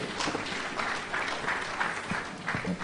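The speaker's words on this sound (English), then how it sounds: "can we give them a round of applause, please?" Audience applause at a leadership lecture and award ceremony in Abuja, a steady dense patter of clapping filling the hall throughout, with faint thumps underneath.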